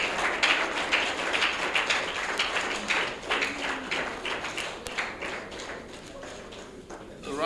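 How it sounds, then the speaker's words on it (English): Audience applause at a speech in Nigeria, scattered sharp claps from a crowd with voices and cheering mixed through, gradually thinning toward the end. "Please, another round of applause."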